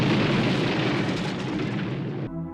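Pyrotechnic explosions tear through a film's outpost set for The Thing (1982), a loud sustained blast roar that cuts off abruptly near the end, leaving a faint tonal tail.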